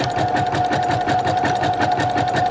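A Brother sewing machine runs a zigzag stitch at a steady pace, its needle clatter rapid and even with a thin mechanical whine throughout, close and continuous with no voices.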